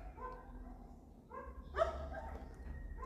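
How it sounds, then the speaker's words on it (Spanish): Dogs bark and yip at a distance outside along a street, faint bursts over a steady low background hum with no talking. "ya se alocaron acá los perros"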